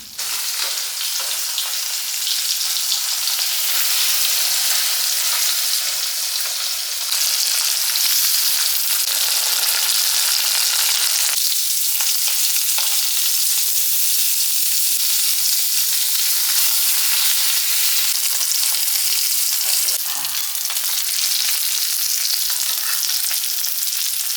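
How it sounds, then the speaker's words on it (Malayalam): Sardines frying in masala in a large pan, a loud, close, unbroken sizzle and crackle lasting a long stretch, with faint stirring shifts and no voices. "അതിന് നമ്മൾ വലിയ ചട്ടിയിലാണ് വറക്കുന്നത്"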